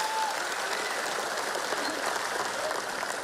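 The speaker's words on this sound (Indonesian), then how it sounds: "Tepuk tangan dong untuk Mas Ganjar dan Prof Mahfud" A crowd at an Indonesian political campaign event applauds steadily throughout, a dense, even wash of clapping at moderate loudness with no break.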